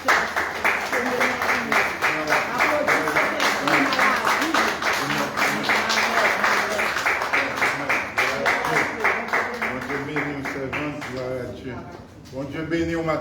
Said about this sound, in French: Applaudis, pasteur.